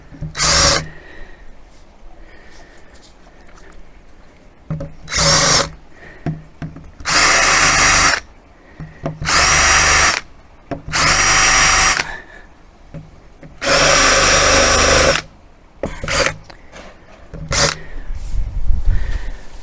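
A Metabo 10.8 impact driver runs in repeated bursts of about a second or two each, driving screws into wood for a baby room wardrobe and changing unit, loud and close, with brief quiet gaps and handling noise between runs.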